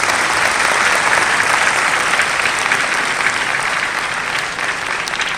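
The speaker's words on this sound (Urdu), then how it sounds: "ایک بار پھر سے تالیاں بجا کر والدین اور گلتی کو خراج تحسین پیش کریں۔" An audience at the COMSATS University Wah Campus convocation bursts into sustained applause, a dense, even wash of many hands clapping together that continues loud and unbroken from start to finish.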